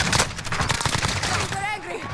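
Gunfire in Modern Warfare Warzone erupts as a dense, overlapping fusillade of rapid shots throughout, close and loud, with a player's voice mixed in.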